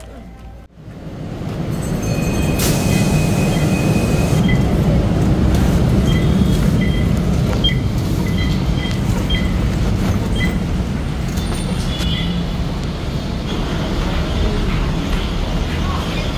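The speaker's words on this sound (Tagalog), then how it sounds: "My first time riding an LRT after 5 years." Steady low rumble of an LRT light rail train in the Philippines rolling along rails, with faint high tones and occasional clatter throughout; muffled voices murmur underneath.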